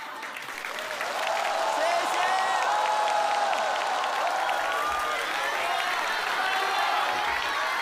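A crosstalk show audience in Luoyang applauds, dense sustained clapping that swells after a second and holds steady, with a voice speaking over it.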